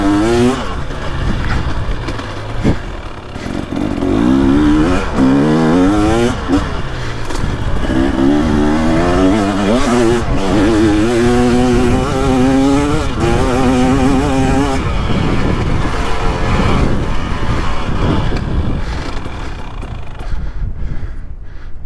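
A 2023 KTM 300XC two-stroke dirt bike ridden on a woods loop, its engine revving and rising and falling in pitch continuously at close range, loud and raspy throughout, with wind buffeting.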